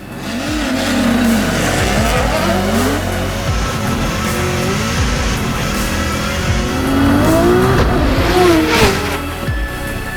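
Drift cars drag racing on the Irwindale eighth-mile track, engines revving hard with rising and falling pitch sweeps, tire squeal and a loud, continuous roar of several cars close by.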